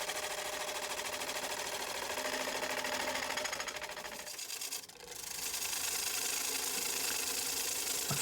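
A wood lathe spins an out-of-round cherry bowl while a tool cuts shavings, giving a steady rasping, whirring hiss with a brief dip midway before the cutting resumes, close and continuous.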